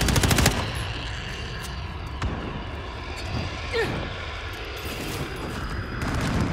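Distant gunfire in Call of Duty: Modern Warfare (2019), a Ground War match at Port of Veransk, with a rapid burst at the start and scattered shots and aircraft rumble over a continuous battle din.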